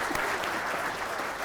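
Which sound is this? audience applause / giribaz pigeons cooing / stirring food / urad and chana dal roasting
audience applause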